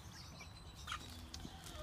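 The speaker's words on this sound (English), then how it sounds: "Chickens are all doing well." Chickens cluck softly and intermittently nearby, with a few brief higher squawks over a low background hum.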